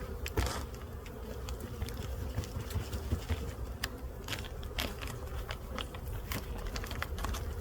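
Honey bees buzzing in a hive, a continuous low, even hum of many wings, faint and close, with scattered crackles and brief clicks over it.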